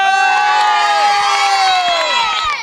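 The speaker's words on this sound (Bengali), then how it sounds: "সবাই নয়ন ভাইয়ের জন্য তালি হবে" A crowd in the Bangshal area of Old Dhaka cheers loudly at a camel showing. Steady, dense shouting and whooping carries sustained, sliding voices throughout, with little sign of distinct hand claps.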